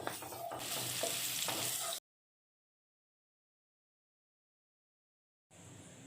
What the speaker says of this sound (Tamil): ஸ்டவ்வை லோ ஃப்ளேம்லேயே வச்சு நல்லா வதக்கிக்கலாம்